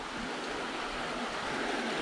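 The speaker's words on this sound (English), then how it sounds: "At least I hear water" Water flowing at Tukad Cepung waterfall in Bali, a continuous even rush of falling water, fairly faint and unbroken, with no voices.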